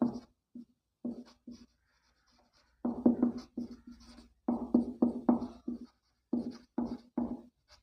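A pen writes on paper during a Class 8 math word-problem lesson, a close, quiet series of short scratching strokes in irregular bursts, some spaced apart and others clustered, with no talking.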